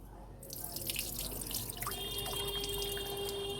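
Sago pearls are washed in water, with a running tap splashing and dripping into a sink or bowl, faint and steady with small sloshing sounds and no talking.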